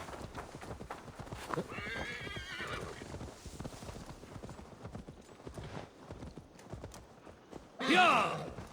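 Hooves clip-clop steadily at moderate volume in the video game Assassin's Creed Valhalla, then a horse gives a loud, sharp whinny near the end.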